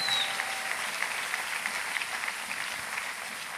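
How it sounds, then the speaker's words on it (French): A church congregation at a Sunday worship service applauds, a steady, moderately faint wash of clapping that holds evenly throughout with no clear talk over it. "Ça mérite les acclamations"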